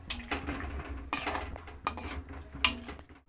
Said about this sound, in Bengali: আমি আর একটু জল দিয়ে ঢাকা দিয়ে দেব